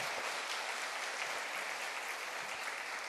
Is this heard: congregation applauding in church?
yes